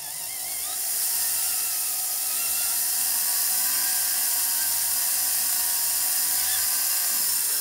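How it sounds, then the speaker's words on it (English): A rotary file carves a signet ring, giving a steady, close high-pitched grinding whine that holds at a constant level throughout without pauses. "I'm trying to keep the rotary file perpendicular to the ring."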